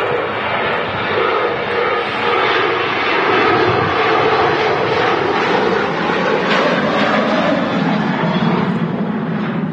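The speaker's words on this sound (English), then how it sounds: "Ryanair about to leap off 23 right here at Manchester." A Ryanair Boeing 737-800 takes off from runway 23R at Manchester Airport with a sustained, loud, broad jet engine roar that holds steady throughout, heard from a moderate distance.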